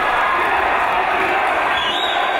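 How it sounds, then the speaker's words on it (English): A British professional wrestling crowd cheering and roaring, a loud, dense wall of voices sustained without a break, with the noise swelling toward the end. "Listen to this crowd, Dave."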